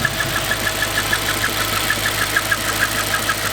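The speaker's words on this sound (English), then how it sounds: "Now the engine sounds like shit. Sounds ropey." A 2007 Audi RS4 B7 fitted with a custom stainless exhaust idles roughly, a steady loud drone with a regular ticking, knocking pulse running through it, close up and with no talk.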